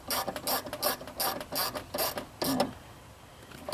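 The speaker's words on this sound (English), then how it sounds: "set our ratchet to reinstall, or on, or tighten" A ratchet clicks rapidly while tightening the negative battery cable nut on a Buick Enclave, about eight quick bursts of ratcheting, close and fairly quiet, then a pause.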